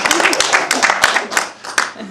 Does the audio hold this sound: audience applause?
yes